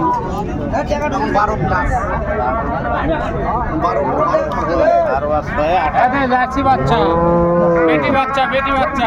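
Dairy cows and calves at a livestock market moo repeatedly, long drawn-out calls rising and falling close and far, over constant crowd chatter and voices.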